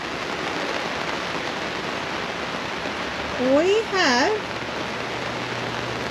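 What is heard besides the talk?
rain falling at a campground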